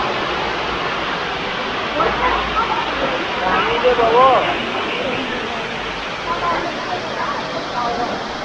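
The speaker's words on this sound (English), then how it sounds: "here are the waterfalls, or the water cascade." Steady broadband rushing of a mountain waterfall cascade in Australia fills the scene, constant and fairly close, with faint voices mixed underneath.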